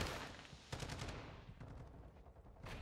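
A sentry gun fires in the Modern Warfare video game in quick automatic bursts, with rapid rattling volleys starting and stopping against a low background rumble, fairly faint overall.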